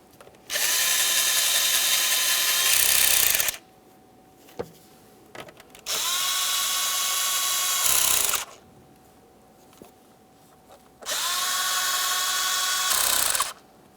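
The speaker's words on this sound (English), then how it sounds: "Continue on with all three of your T27 Torx screws." A power tool whirs in three long, loud bursts of about three seconds each, separated by brief quiet gaps with small clicks, driving T27 Torx screws in the engine bay of a 2013-2015 Chevrolet Malibu 2.5L four-cylinder.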